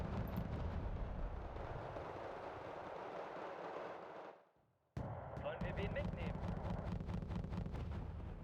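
Tank cannon and gunfire from a Leopard 1 in the Wargame: Red Dragon strategy game, a loud sustained roar of battle that cuts out, then resumes with sharp repeated reports and crackling shots, under faint talk.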